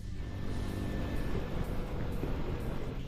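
A TVS Apache RTR 200 motorcycle engine runs steadily at a constant idle or cruise, a dense low rumble with a faint whine above it, close and uninterrupted throughout.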